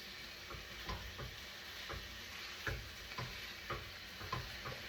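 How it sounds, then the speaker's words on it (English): Ground meat is broken up and browned in a pan, giving a soft, steady sizzle punctuated by irregular scraping stirs and light taps of a utensil, close and moderately quiet. "So I'm just grinding up the meat until it's like, you know, little bite-sized pieces."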